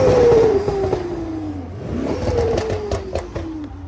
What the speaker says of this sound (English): Charlie, rev him again for me. I want to hear intake.